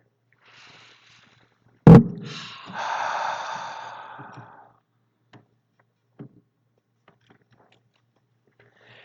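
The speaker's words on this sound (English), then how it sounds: "Take a breath." A single deep breath taken before a prayer at a spiritual service: a sharp intake followed by a long, steady exhale, close and fairly loud, with quiet afterward.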